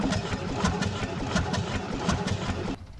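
A vintage Atlas marine engine built in Oakland, California, runs steadily at close range, its low rumbling chug rolling on continuously before cutting off abruptly near the end.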